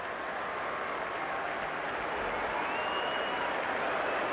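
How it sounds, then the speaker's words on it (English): Baseball fans in the bleachers at a Texas at Boston game giving a round of applause, a distant, even wash of clapping and crowd noise throughout. "A big round of applause."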